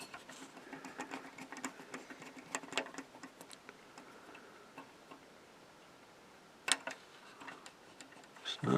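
A small screw is driven into a plastic part of a Fanhome GT500 Eleanor model kit rolling chassis, giving a quiet run of rapid ticking clicks with a few sharper snaps near the end, close and alone.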